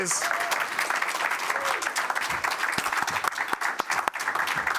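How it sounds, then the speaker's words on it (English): A conference audience at a Danube ports forum applauds at length, dense clapping filling the room at moderate level with a few sharp nearby claps standing out, and voices faintly underneath. "the hugest applause for Charlotte"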